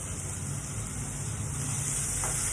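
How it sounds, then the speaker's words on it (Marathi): Chopped onion and tomato frying in a little oil in a pan, giving a steady, even sizzle and hiss that runs close and unbroken, with no talking. "मग मी थोड्याशा तेलामध्ये कांदा टमाटर असं घेते."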